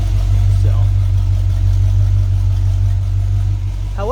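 A 1978 GMC truck engine idles in a loud, steady, low rumble close by, with a brief higher sound near the end and nobody speaking.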